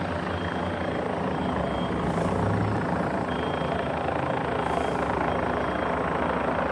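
A couple of helicopters flying overhead, a continuous rotor thrum and whine at moderate distance, steady and unbroken, with no talking.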